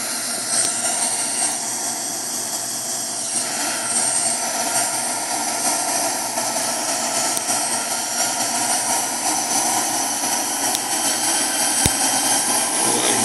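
Steady, loud broadband roar of a KLM airliner's engines and airflow during a landing approach in rough weather, heard from inside the cabin and continuous throughout with no voices.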